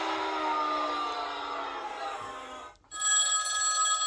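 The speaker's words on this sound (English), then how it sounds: "phone's ringing!" A toy sound effects machine plays its phone-ringing effect, a loud continuous ringing tone that cuts off briefly and then resumes, with no voices over it.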